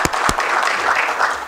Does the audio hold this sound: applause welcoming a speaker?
yes